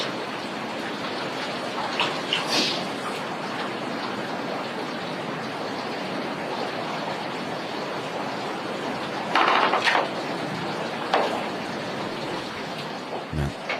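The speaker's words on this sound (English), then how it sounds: "this white noise waterfall stuff is killing me" A white noise machine set to a waterfall sound gives a steady, even rush of falling water throughout, with a few faint knocks and shuffles on top of it.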